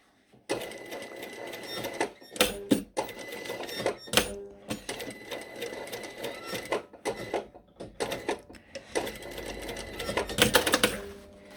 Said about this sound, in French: j'ai envie de me faire une deuxième piqûre.